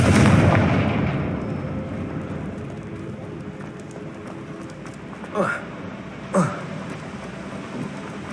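Confringo blasting spell in Hogwarts Legacy, a booming explosive burst at the start that rumbles and fades, followed by two short sharp spell impacts near the end over ambient game sound.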